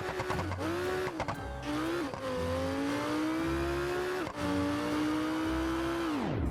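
A Lamborghini in BeamNG.drive accelerates hard toward top speed, its engine whining upward through repeated gear changes with short dips between shifts, loud and close, then fading at the end.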